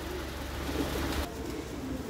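Soft, low cooing from pigeons continues through the clip over a steady background hiss, a gentle murmuring that never breaks into louder calls.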